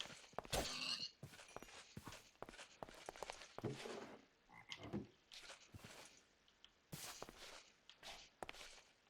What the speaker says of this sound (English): Love how there's like frog sounds, but there's no frogs.